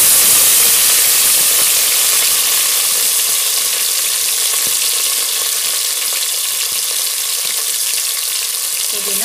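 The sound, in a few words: frying green chilies, onion, coriander and mint for veg biryani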